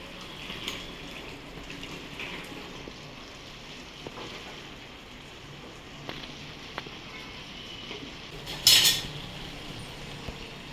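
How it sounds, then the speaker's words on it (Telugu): A spoon scrapes and clinks now and then against a pot of chicken biryani. The taps are light and sparse over a steady low background hiss, with one sharper metallic clatter near the end. "ఒకసారి చూసి చిన్నగా కలిపెట్టుకోవాలి"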